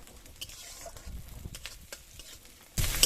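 Chopped onion and garlic hit hot mustard oil in a pan, giving soft scattered sizzles and stirring clatter before a sudden louder burst of frying at the end.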